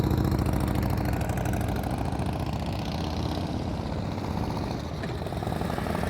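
A motorcycle engine runs steadily during slow speed riding practice, a continuous close rumble with a fairly even throttle and slight variation in pitch throughout.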